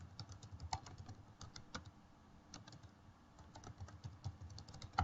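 Steady typing on a computer keyboard while entering a chart axis title in a spreadsheet, a dense run of soft close clicks across the whole stretch with no voices.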